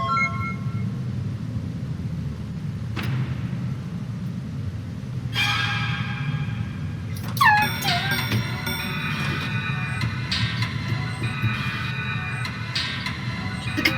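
In a video game, many clocks and alarms start ringing one after another over a low steady rumble, layering into a dense, continuous ringing by the end.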